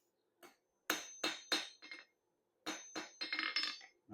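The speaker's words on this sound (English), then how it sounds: "Now try not to talk while I'm hammering" Hot metal stock hammered into a point for a curly end, a run of sharp ringing hammer blows in two quick clusters, close and clear with no talk.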